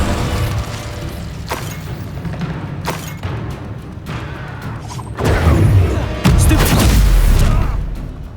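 Fire spells cast in Hogwarts Legacy during a battle, heard as a string of booming blasts and thuds over a rumbling low bed, swelling into louder bursts near the end.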